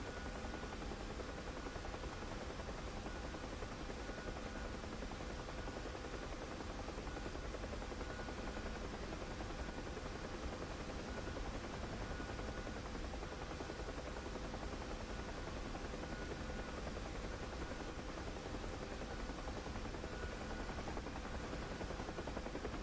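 A helicopter in the DCS flight simulator drones on with a steady, even rotor and turbine hum, faint and unchanging throughout.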